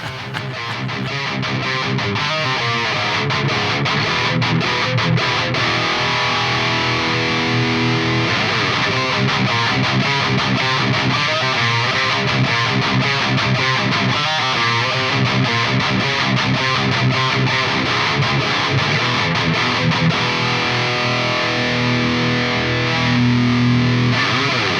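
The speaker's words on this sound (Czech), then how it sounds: "No a když zapnu Arrow, tak to prostě funguje skvěle i na metal." An electric guitar plays heavy metal riffs through a Defects Arrow overdrive pedal stacked with a Salvation Audio Satanas high-gain module, producing thick, tight distortion that is loud and continuous throughout.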